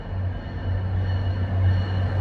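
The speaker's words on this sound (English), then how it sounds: "train's coming by" A train rolls past a backyard, a steady low rumble and rail hum that holds even and loud throughout with no voices.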